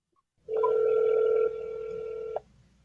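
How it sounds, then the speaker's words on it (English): Telephone line tones as a number is dialed for a support call: a steady electronic tone starts abruptly, drops to a lower sustained pitch partway through, then cuts off cleanly, alone with no talk. "So Hugo, you can go ahead and dial the phone number."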